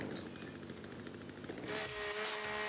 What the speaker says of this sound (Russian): Давай-ка мы, наверное, сразу берем бензопилу.